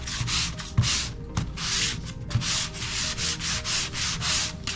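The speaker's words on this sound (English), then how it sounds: "We'll sand it all the way." Sandpaper rubs back and forth in fast, regular strokes across a DIY belt with a lion design, close up and fairly loud, with no talking.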